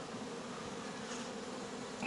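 A dense, continuous buzz of many honeybees at an open hive hums steadily and close, with no pauses.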